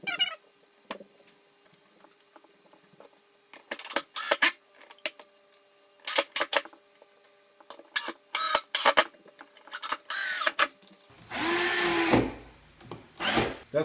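Screws driven with a power drill into pre-drilled holes in wooden angle braces on a farmhouse table, heard as several short whirring bursts close by with quiet pauses between them and a longer, louder drive near the end.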